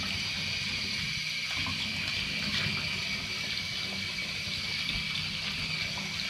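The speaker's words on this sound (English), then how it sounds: "I'm going to put a little bit of water on the inside and kind of roll it in there." Water runs steadily from a tap into a boot sitting in a bathtub, a constant hissing, splashing flow heard up close without a break.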